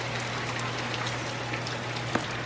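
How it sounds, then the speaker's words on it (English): Steady rain falls outdoors as an even, continuous hiss with faint scattered drop ticks and one brief sharper tap near the end, and no talk over it. "It is raining right now."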